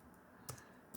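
A computer keyboard, hooked up separately to a 2012 MacBook Pro during a terminal session, gives two brief, faint keystroke clicks spaced about half a second apart, alone with no talking.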